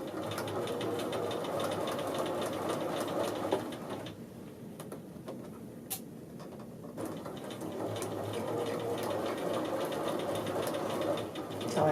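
A sewing machine stitches along a men's shirt collar in close, rapid mechanical bursts, briefly pausing midway before running steadily again.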